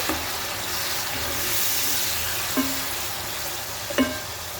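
Pieces of fish frying in oil give a steady, moderate sizzle throughout, with two brief clinks of a utensil against the pan near the end.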